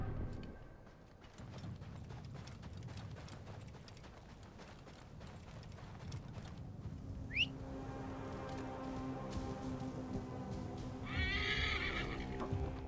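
A horse ridden in the video game Assassin's Creed Origins trots with steady clip-clop hoofbeats, then gives a loud whinny and neigh near the end over faint ambient game sounds.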